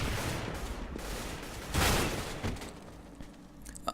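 Gunfire in a video game ending in a headshot, a burst of rapid loud shots with a heavy boom in the middle, then scattered quieter pops fading out.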